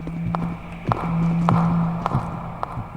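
Ghost footsteps in the horror video game The Mimic Chapter 2: a steady run of fast, evenly spaced thudding steps, about two per second, over a constant low ambient drone.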